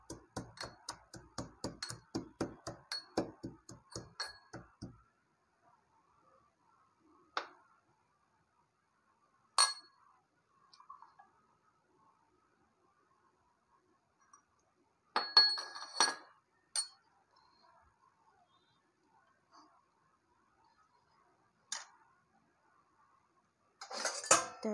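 Crushed garlic is mixed into butter in a bowl, giving a quick run of rhythmic metal-on-bowl clinks and scrapes at first, then sparse, faint taps and clatters with long quiet gaps between them.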